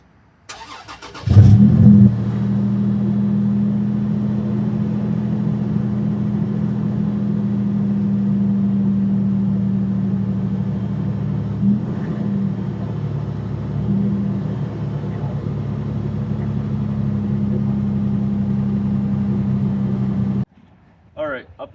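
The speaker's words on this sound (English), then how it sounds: "Let's take a look at the cold start." Toyota 4Runner with a TRD Pro exhaust cold-starting: a brief crank catches into a loud, steady, droning idle that holds for about twenty seconds before shutting off.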